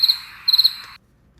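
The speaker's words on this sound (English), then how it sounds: "Crickets." Crickets chirp close and clear in rapid pulsed trills, one burst at the start and another mid-way, then the sound cuts off into near silence.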